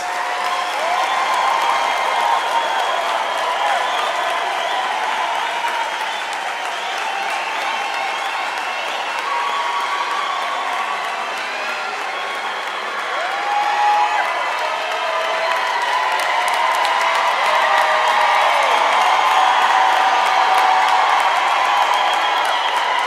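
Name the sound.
graduation ceremony audience applause and cheering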